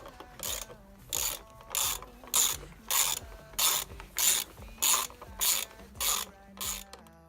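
Ratchet clicks back and forth in quick bursts, about a dozen evenly spaced strokes, as 10mm bolts are undone on a Honda Civic Type R EP3 engine rocker cover, close and crisp with no talking.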